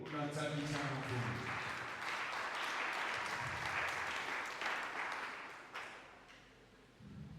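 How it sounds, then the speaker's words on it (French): A church congregation at a French-language deliverance service breaks into loud, sustained applause and cheering, with voices calling out under the clapping before it fades toward the end. "Est-ce qu'on peut acclamer le Seigneur?"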